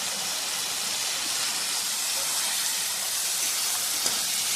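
A masala of spices, salt and water cooks down in a pan, giving a steady, even broadband sizzle and hiss that stays constant and close with no voices.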